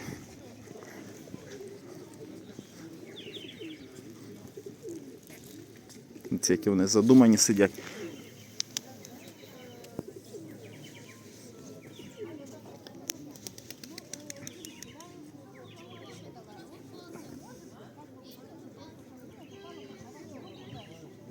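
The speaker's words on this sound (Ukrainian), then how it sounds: "Голуби настільки вже до мене звикли, що взагалі не лякаються, не розбігаються." Pigeons murmur and coo nearby in the resort town of Truskavets, under steady talking, with a brief louder flurry of movement partway through.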